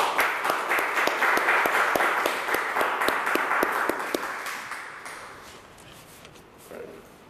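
A church audience gives warm applause to welcome a bishop to the lectern, a full round of clapping for about four seconds that then fades into quiet room tone.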